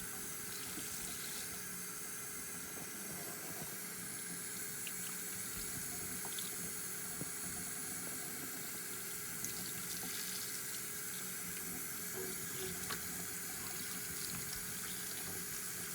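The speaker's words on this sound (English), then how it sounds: "So I have to wash off the honey before I can start melting the beeswax." Water runs steadily from a tap as crystallized honey is washed off raw beeswax, a constant rushing splash with faint shifting clatter.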